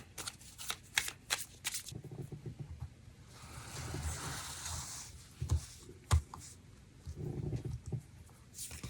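Tarot cards are shuffled by hand for an extra card, giving soft riffling bursts and sharp taps on a table, close and quiet with brief pauses between shuffles.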